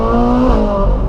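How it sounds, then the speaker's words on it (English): Ferrari 458 V8 exhaust heard from inside the car with the convertible top down, a loud, close, steady engine tone that shifts pitch as it revs. "When you have the top down, you can hear the exhaust much better."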